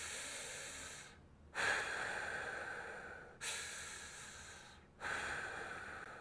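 Slow, deep breaths in and out during a core stability exercise, heard up close as long airy rushes with brief gaps between about three cycles and no speech.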